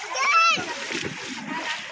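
Children splash in river water, a loud burst of splashing and sloshing close by, mixed with their excited voices and chatter.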